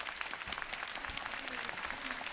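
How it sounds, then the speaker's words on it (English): An audience claps to welcome astronauts during a live space lecture link-up from a Chinese space station, a sustained, fairly faint spread of many hands with a faint tone running beneath. "let's give a warm welcome and applaud to the astronauts"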